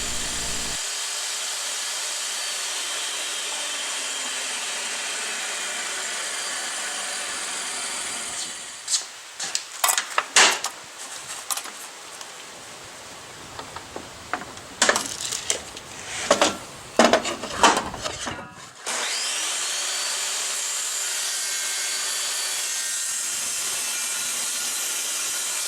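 Saw cutting small wood pieces for a candy dispenser, 2.5 and 1.5 inches wide by 5.5 inches long. A steady loud hiss runs throughout, with a burst of uneven rasping cuts in the middle before the steady noise resumes.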